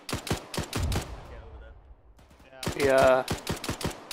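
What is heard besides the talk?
gunfire from a video game (ETR: Operation Chechen Uprising)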